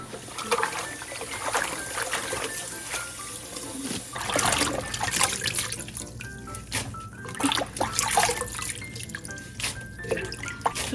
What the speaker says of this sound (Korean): 두세 번 헹구어서 씻어주면 불순물이 빠져나오게 됩니다